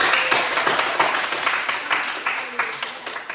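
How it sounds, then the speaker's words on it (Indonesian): Participants in a teaching session clap together, a loose patter of hand claps with a few stronger strikes, moderately loud, mixed with some murmured voices. "tepuk tangan untuk kita"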